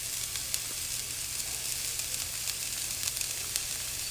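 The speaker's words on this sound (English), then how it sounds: "I'll just put the scallion in here." Scallion dropped into about a tablespoon of hot oil for Jamaican rice and peas sizzles steadily, a dense continuous frying hiss with faint crackles throughout, close and alone without talk.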